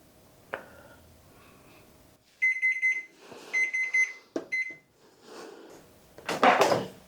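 A kitchen oven timer goes off while bread bakes, sounding several bursts of shrill electronic beeps in quick clusters, with faint clatter and household handling noises between and after them.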